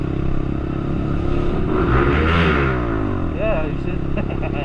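Lexmoto LXR 125 motorcycle engine revving loudly and close up, a steady roar that rises in pitch as the throttle opens, then eases back down.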